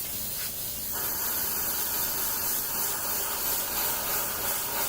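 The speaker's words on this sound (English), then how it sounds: "Now we're spraying again." Continuous hiss of an airbrush spraying paint onto a tabletop miniature, close and steady throughout, with the spray opening up fuller after a brief quieter start.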